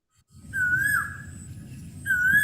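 A human voice whistles an imitation of an Asian koel's call, two rising notes with a brief gap between them, over low background noise.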